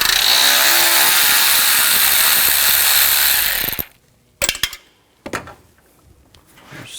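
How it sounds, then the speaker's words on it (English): A T25 socket on a ratchet backs out screws on a 2000-2006 BMW X5 3.0L L6 during AC condenser work: a loud, continuous whirring rattle for several seconds, then silence broken by a few sharp clicks. "take these screws out on top, use a T25 socket"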